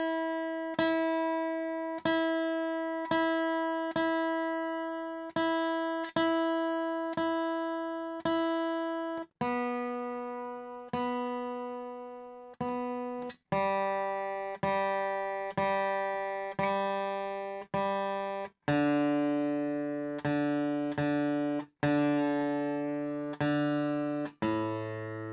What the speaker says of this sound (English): Let me just get got my tuner with us. Gotta make sure they sound okay.